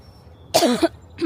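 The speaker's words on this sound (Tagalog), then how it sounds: "Pasensya na sa ubo." Someone coughs twice up close, a rough, throaty burst followed shortly by the start of another, over a quiet room while tending climbing roses.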